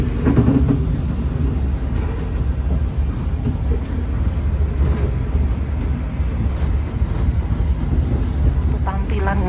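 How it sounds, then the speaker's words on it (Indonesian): A local Bandung Raya train hauled by locomotive JJ 201 8316 rolls past in Indonesia, a steady, loud broadband rumble and rattle that holds for the whole stretch without a break. "Ini ada kereta api lokal Bandung Raya, lokomotifnya JJ 201 8316."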